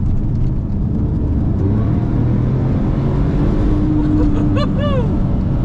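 A 997-generation Porsche 911 Turbo engine accelerating hard, a loud continuous roar rising in pitch with a sharp upward sweep near the end.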